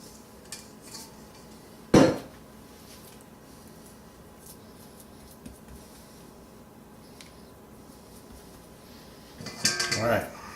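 A utensil scrapes and knocks against a bowl while sticky whole-grain sourdough rye dough is worked off its bottom. A sharp clunk comes early, then quiet, then a rougher burst of scraping near the end.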